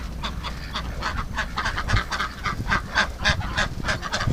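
A flock of ducks calling together at a barn, repeated honking quacks overlapping in an irregular chorus, close by, with steady outdoor background noise underneath.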